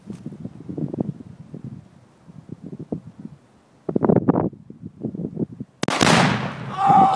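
A rifle fitted with a flash suppressor fires outdoors on a hill, with one sharp, loud crack that rings out with a long echoing tail after stretches of wind noise and people talking.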